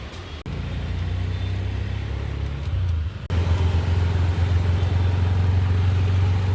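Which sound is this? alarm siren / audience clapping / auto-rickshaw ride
auto-rickshaw ride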